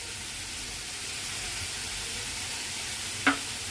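Banana flower mixture with spices sizzling steadily in a pan as it is stirred, a soft continuous hiss with one brief clink of the utensil near the end.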